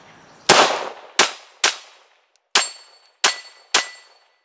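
Six CZ-75B pistol shots ring off steel targets in an uneven rhythm, each sharp crack followed by a bright metallic clang that decays quickly, loud and close with no talk.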